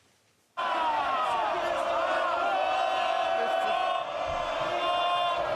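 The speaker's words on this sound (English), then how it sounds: "That's cheering for Rishi Sunak, of course." MPs in the House of Commons cheer: a sudden loud swell of crowd cheering and shouting from the packed chamber that holds steady and sustained.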